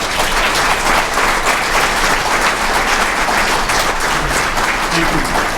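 An audience applauds at a police department annual awards ceremony in Blue Springs, loud dense clapping that holds steady throughout with crowd murmur mixed in.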